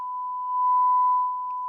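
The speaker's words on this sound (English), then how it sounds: "We've got a sine wave." Steady, pure sine tone from a signal generator played through a restored Braun SK 2/2 tube radio, a single continuous note swelling louder in the middle before easing back, with no talking.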